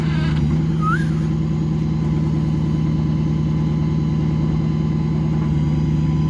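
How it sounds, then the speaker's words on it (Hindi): A crane lifts a car during a home renovation, giving a loud, steady mechanical engine drone with constant hum and rumble throughout, no voices over it. "बस ये देखो क्रेन ने उठा ली गाड़ी।"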